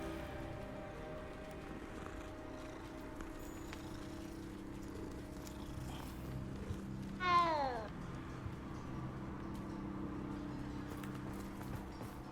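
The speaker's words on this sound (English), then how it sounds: "What the hell's that? Oh, it's a cat." A cat meowing inside the video game Hogwarts Legacy, one short rising-and-falling meow heard faintly over a steady game ambience and background music.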